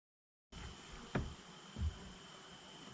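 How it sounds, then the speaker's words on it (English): Honey bees hum softly around an opened hive, a faint steady drone with a couple of brief louder buzzes as single bees pass near. "We actually have bees up there."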